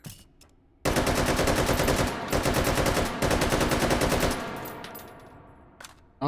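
A Draco AK rifle fires in the VR game Hot Dogs, Horseshoes & Hand Grenades: a loud, sustained fully automatic burst of rapid shots lasting a few seconds, then a trailing echo and a couple of faint mechanical clicks.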